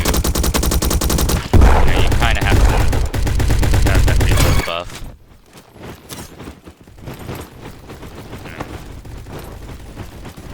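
A Skorpion vz.61 machine pistol fires in a video game, a rapid burst of loud automatic shots for several seconds, then quieter scattered in-game sounds follow.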